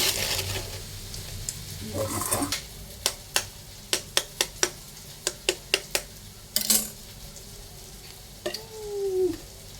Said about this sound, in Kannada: ಚೆನ್ನಾಗಿ ಫ್ರೈ ಮಾಡ್ಕೊಂಡಿದ್ದೀನಿ ಇನ್ನು ಸ್ವಲ್ಪ ಒಂದೆರಡು ನಿಮಿಷ ಇರಲಿ